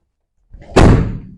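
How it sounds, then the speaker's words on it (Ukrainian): Sliding side door of a long Mercedes Sprinter van shuts with a single loud, close slam after a brief rolling lead-in, then a short fading rattle. "Дверка закрилася."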